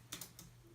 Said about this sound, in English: You can simply delete this and type something